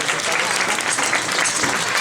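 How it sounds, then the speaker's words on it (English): Audience applause for volunteers at an indoor bird show, a dense, loud, steady clapping from a full crowd lasting the whole moment. "Let's give a big round of applause to our volunteers."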